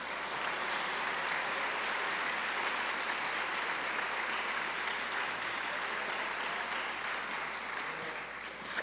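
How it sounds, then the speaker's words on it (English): Audience applause at a high school all-county band concert, a sustained, even roar of many hands clapping for nearly nine seconds, dipping slightly just before the close. "Let's give him one more round of applause."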